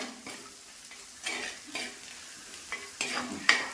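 Sliced shallots fry in a pan for a chilli-tamarind curry, the oil crackling steadily while a spoon scrapes and stirs in several distinct swishes that grow louder toward the end, close and alone.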